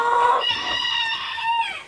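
Chickens on a farm with a rooster crowing loudly and close, its long harmonic call held for over a second, with clucking from nearby hens at the start.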